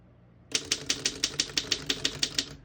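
A 1927 Underwood No.3 desktop typewriter types about a dozen crisp, evenly spaced key strikes after a short quiet start, close and loud with no talking.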